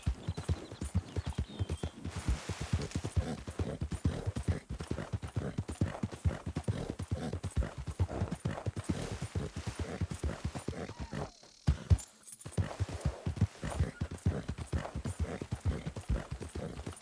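Horse hooves clip-clop in Red Dead Redemption II as a steady, rhythmic walking beat that runs throughout, briefly dropping out near the end before resuming.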